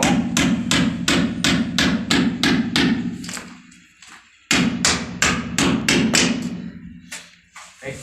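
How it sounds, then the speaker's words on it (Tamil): Steady hammer blows drive a nail to secure a concealed bathroom pipe line to the wall, two loud close runs of about eight evenly spaced strikes each, separated by a short pause. "இந்த ஆணி வச்சு நம்ம டைட் பண்ணிக்கலாம்"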